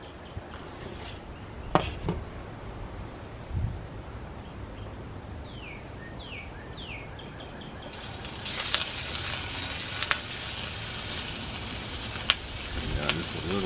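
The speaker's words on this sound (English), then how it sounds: "Let's get some bacon in there." Bacon going into a hot pan, quiet clatter and a few knocks at first, then a loud steady hiss of frying that fills the rest, close by and without voices.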